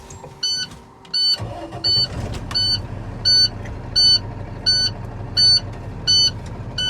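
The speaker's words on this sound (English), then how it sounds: "I'm going to start this truck and test them." A truck with an automated manual transmission starts up during an in-cab emergency brake test, the engine cranking and catching into a low idle while a dashboard warning chime beeps in a steady repeating pattern.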